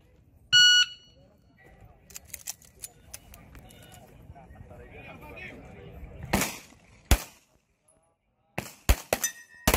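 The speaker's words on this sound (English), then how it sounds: "Fires, listen to the buzzer." A brief, loud electronic shooting-range buzzer sounds once near the start of a military shooting competition, followed later by several sharp gunshot cracks, with faint murmuring in between.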